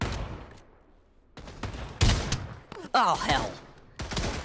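Gunfire erupts in the VR shooter Pavlov VR: several loud, sharp bursts and single shots arrive in clusters with short gaps between them, close and harsh, while a man swears under the shooting.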